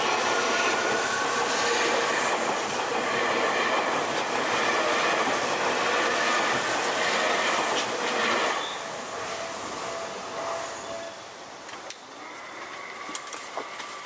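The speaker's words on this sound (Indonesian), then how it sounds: "Suka dengar bunyi keretanya dan juga kebisingan setelah keretanya udah lewat" A train in Tokyo rushes past close by with a loud, dense roar and rattling wheels, then fades into quieter rumbling and faint squeals as it moves away.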